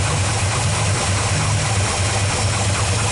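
A small block Chevy V8 idles steadily with a loud, even low-pitched rumble, running with only a new two-piece timing cover fitted and other parts unhooked, no voices over it.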